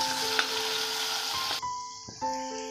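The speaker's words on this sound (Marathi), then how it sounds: "फ्राय करून घ्यायचे सगळे अरबी, मी फ्राय करून घेते" Pieces of taro (arbi) fry in a pan, a continuous hissing sizzle that drops away partway through and then resumes more faintly, with a few brief tonal clinks on top.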